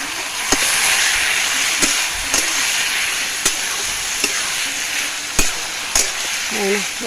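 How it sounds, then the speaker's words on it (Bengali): Taro leaves (kochu shak) cook in a pot over a wood fire with a loud, steady sizzle and hiss, joined by occasional sharp clicks and crackles. "এই যে কচুর শাক বসায় দিছি লাকড়িতে হলে ভালো হয় তার জন্য লাকড়িতেই মানে রান্না করছি"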